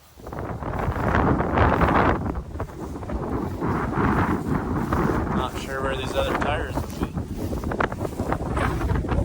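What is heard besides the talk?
strong wind blowing outdoors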